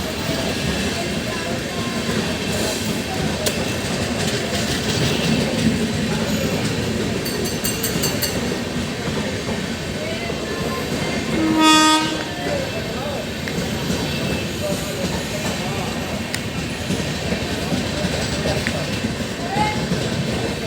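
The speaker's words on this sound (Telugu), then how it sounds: "మళ్ళీ ఇక్కడ ఇంకో ట్రైన్ వస్తుంది." An electric train rumbles steadily through a station with rolling wheel noise, a sharp horn blast midway, and people talking over it.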